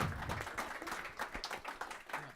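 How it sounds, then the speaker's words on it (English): An audience applauds panelists at a Cryptolaw panel discussion, a steady wash of many hands clapping at moderate level with no voices on top. "I can give a round of applause for our panelists."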